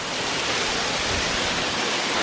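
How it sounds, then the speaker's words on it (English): Steady roaring rush of a waterfall in a snowy outdoor setting, heard close and loud as a continuous broadband wash with no pauses and no voices over it. "Look guys, this is waterfall."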